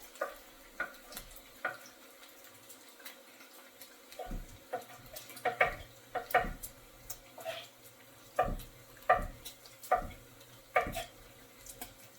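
Bacon crisping in a pan for a tomato, bacon and avocado salad, a soft steady sizzle broken by repeated sharp clinks and scrapes of a utensil against the pan, fairly close, with no one talking.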